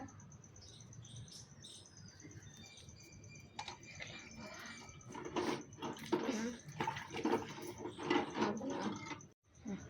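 Faint scrubbing and running water while items in a home puja room are washed with cleaning powder, with a steady high tone throughout and busier rubbing and splashing toward the end.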